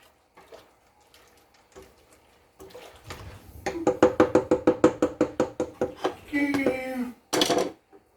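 A spoon scrapes and knocks rhythmically inside a pot of Alfredo sauce for fettuccine, a steady run of close, loud metallic strokes with some clinking, ending in a short burst of kitchen clatter.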